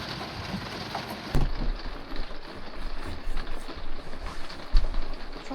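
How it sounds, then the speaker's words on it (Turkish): Heavy rain pours steadily on a caravan roof during a downpour, a dense continuous patter with a few louder thumps of drops. "Çok da yağıyor ama."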